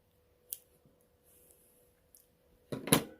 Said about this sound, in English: I'm going to cut my yarn and tie off